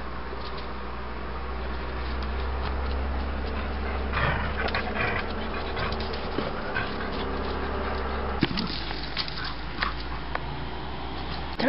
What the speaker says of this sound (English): This dog that he just saw, she's our neighbor's dog